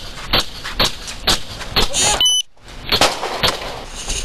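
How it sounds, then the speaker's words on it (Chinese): Police open fire at close range to burst a suspect car's tyres during an arrest, loud sharp cracks at a quick, even pace with a brief beeping tone mid-sequence, then more shots. "警方开侦防车围捕，开枪击破轮胎，敲窗顺利逮人"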